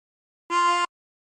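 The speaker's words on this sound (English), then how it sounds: "And breathe in through 5." A single short harmonica note drawn on hole 5 sounds clear and close, a reedy tone lasting under half a second with silence around it.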